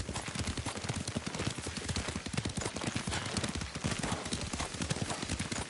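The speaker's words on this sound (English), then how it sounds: "Lord Sakai taught me to ride a horse" Horse hooves clop steadily and loudly while riding in Ghost of Tsushima, a continuous galloping rhythm with faint in-game ambience and no speech.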